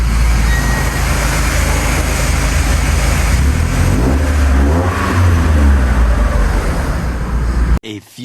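A rebuilt Mazda Miata drives along with its engine revving loud and close, rising through a throaty acceleration midway before cutting off abruptly near the end.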